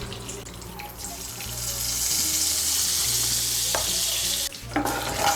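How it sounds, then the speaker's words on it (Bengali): A spoonful of butter dropped into hot oil in a wok, rising into a loud, continuous sizzle with brief clatters near the end, no one speaking. "কড়াইতে যে তেল আছে এই তেলের মধ্যে আমি দিয়ে দিচ্ছি 1 চামচ বাটার"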